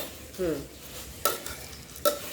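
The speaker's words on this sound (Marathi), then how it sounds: "पुन्हा त्या मिक्स करून घेत आहे" Bhel, a puffed rice snack, being tossed and mixed in a bowl, heard as a few short scraping and rustling strokes with brief crisp bursts in a quiet room.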